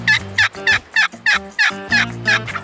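Wild Rio Grande turkey gobbling repeatedly in a steady run of about eight bursts, loud and close, each burst a rapid gurgling rattle, with no talk over it.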